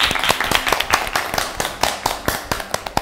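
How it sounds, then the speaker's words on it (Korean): A small group of people at a gathering in Cheongpyeong applauds a student's strong exam results, a few seconds of brisk, uneven hand claps nearby with no speech over them. "박수 한번 쳐주자."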